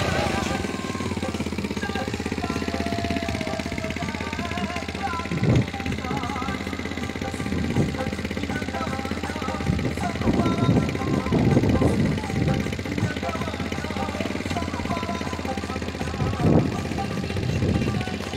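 A homemade contraption built around a motorcycle engine, used as a blower, runs steadily and loudly throughout, with a continuous mechanical drone while people talk over it.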